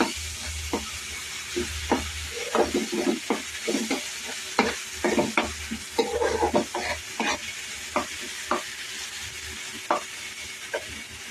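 Tomato paste and onion paste fry in a pan, a continuous sizzle broken by frequent irregular scraping strokes of a spoon, fairly loud and close, with no talking.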